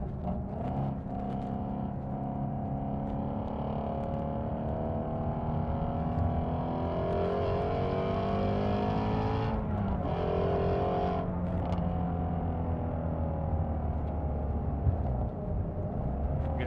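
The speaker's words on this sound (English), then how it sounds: "Get a little more burble from the exhaust now." A 2016 Ford Mustang GT350R is driven hard, its engine and exhaust droning and rising through the revs, with a shift break near the middle and a deep exhaust burble under a continuous loud rumble, with no talking.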